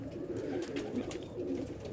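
Pigeons cooing steadily at a pigeon keeper's rooftop loft, a soft continuous low burbling with overlapping calls close by, no talk.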